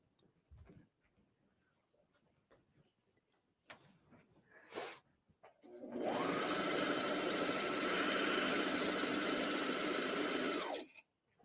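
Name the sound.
Brother Airflow 3000 serger sewing fabric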